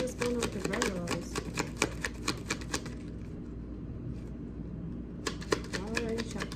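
Tarot cards being shuffled in quick riffling bursts, close up, with a pause in the middle before another riffle starts.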